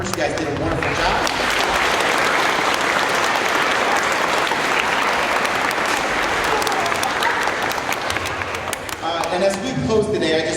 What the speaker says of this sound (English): Let's give one more round of applause to our student performers.